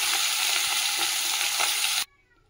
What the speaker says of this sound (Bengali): এই যে তেল গরম হয়ে গেছে, চিংড়ি মাছটা দিয়ে দিচ্ছি।